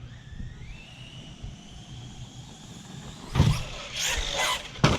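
A Kraton 4S RC truck's electric motor whines steadily and rises in pitch as it drives in a backyard, with bursts of rougher noise near the end.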